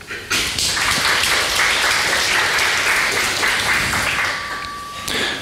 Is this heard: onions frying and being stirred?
no